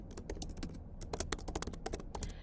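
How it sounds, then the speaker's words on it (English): Quick, irregular bursts of clicks from a computer keyboard being typed on up close, keystrokes coming in clusters with short pauses between them and no voices. "so I'm going to just start typing that in"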